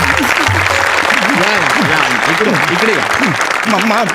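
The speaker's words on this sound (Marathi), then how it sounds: "जोरदार टाळ्या अण्णांसाठी." Live audience applause for a guest welcomed onstage at a Marathi comedy show, a steady dense clatter of clapping lasting throughout, loud and continuous, with a host's voice talking over it.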